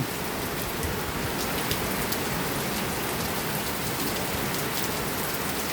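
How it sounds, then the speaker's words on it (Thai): Steady heavy rain hisses down on surfaces in strong storm winds, a constant dense wash of noise with gusts blending into the downpour. "ฝนตกไม่แรงแต่ว่าลมแรง"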